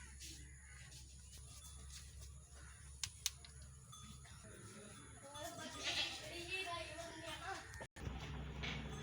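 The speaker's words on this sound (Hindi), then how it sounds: "देखो बकरी के पकड़ते होते हैं।" A goat bleats while someone catches it, with a few short cries rising over steady background noise and some faint voices nearby.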